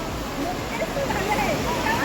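Steady broadband rush of falling water, continuous and fairly loud, with faint voices mixed underneath.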